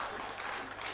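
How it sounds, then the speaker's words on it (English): Football supporters at an Alloa versus Cowdenbeath Premier Sports Cup match clap as the visiting team walks out, a dense spread of crowd clapping across the stands. "and a clap for them as well"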